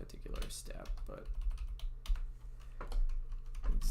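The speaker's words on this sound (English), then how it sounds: "I kind of like typing things out just so I'm more likely to remember" Typing on a computer keyboard while programming an RTS engine, a steady close patter of key clicks with brief pauses. Low background hum, with no clear talk over it.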